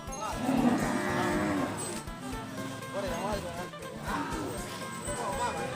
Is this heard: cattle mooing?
yes